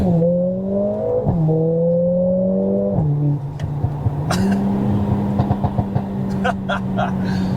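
A Mercedes A45 S AMG engine revs and drops through several gear changes in traffic, then its exhaust crackles with a run of sharp pops and bangs, loud and close.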